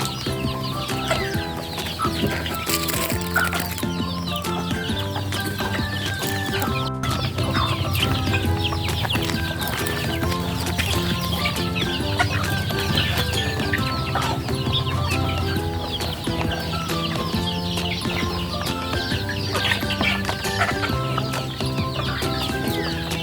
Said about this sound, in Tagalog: gusto naman ng ating mga manok itong nabili nating feeds